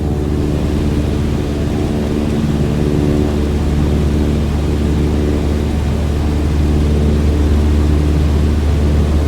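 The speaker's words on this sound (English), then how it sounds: "go full throttle and start climbing" An airplane engine runs at full throttle during a climb, giving a loud, steady droning roar that holds for the whole stretch with no voices.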